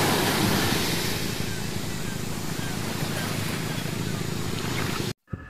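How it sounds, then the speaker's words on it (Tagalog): Ocean waves surging and washing in a steady broadband roar with wind buffeting the microphone, continuous for about five seconds before cutting out briefly near the end. "Isa sa mga anyong tubig ay ang karagatan o ocean."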